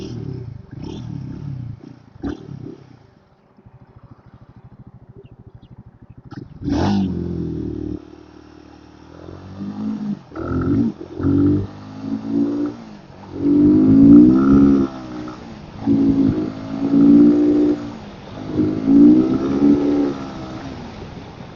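A motorcycle on a test ride sits quiet at first, then its engine revs up and pulls through several rising accelerations, loud and close, each surge followed by a brief drop as gears change.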